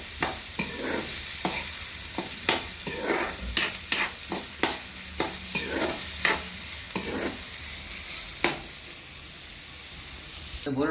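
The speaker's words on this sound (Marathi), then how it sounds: "ते कांदा, मिरची, मोहरी तेलामध्ये सर्व परतून घ्यायचं आहे." Onion, chili and mustard seeds sauté in hot oil over a wood-fired chulha for a raw banana bhaji, with a steady sizzle broken by repeated sharp scrapes and clinks of a stirring spoon against the pan, close and fairly loud.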